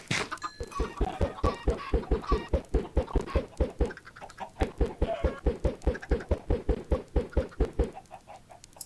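Chickens in the block-building game Minecraft cluck in a fast, steady run of short clucks, many birds at once, close and continuous with no talk.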